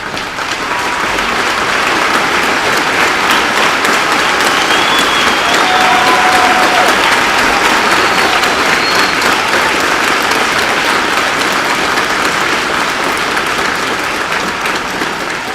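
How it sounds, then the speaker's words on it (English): A large audience at a 2021 high school graduation ceremony gives a sustained, loud round of applause, dense even clapping with no speech. "Please stand up and let us give you a round of applause."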